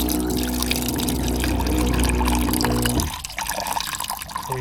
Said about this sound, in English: Just grab a saucepan, like a little bit of water.